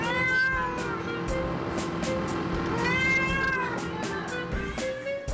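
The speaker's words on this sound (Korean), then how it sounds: "이건 다른 고양이 소리" A cat meows repeatedly nearby, loud, drawn-out calls with a caterwauling edge coming in an irregular series from a spot above a cafe, over background noise with no talking.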